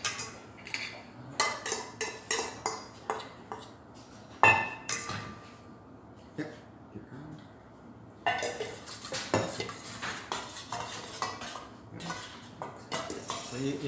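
Ingredients being mixed in a bowl for a tofu dish, heard as close, irregular clinks and scrapes of a utensil against the bowl, with a short pause midway before the clattering resumes more busily.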